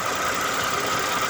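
A 2007 Ford Edge engine idles in a brief, steady hum with a slight rattling texture, close and constant throughout.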